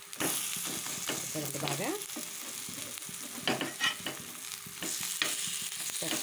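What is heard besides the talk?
bajji fritters frying in oil, being turned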